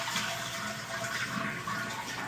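A toilet tank drains as it is flushed to empty the water before a repair, a steady, fairly quiet rushing of water with no voices.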